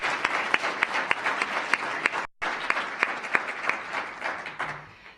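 A conference audience applauds its four presenters, a steady roomful of clapping with distinct individual claps standing out, briefly cut off mid-way before resuming and tapering toward the end.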